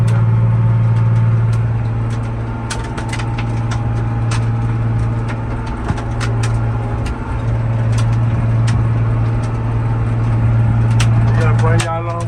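A John Deere 8400 tractor engine drones steadily and loudly up close in the rain, its low hum constant throughout with scattered clicks and rattles on top, and someone talking over it.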